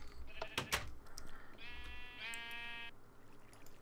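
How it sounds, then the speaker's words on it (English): Sheep in the video game Minecraft give several bleats, a couple of them long and wavering, over a soft game background with no talk. "So let's call some sheep."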